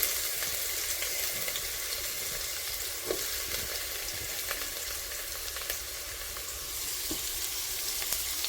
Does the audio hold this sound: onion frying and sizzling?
yes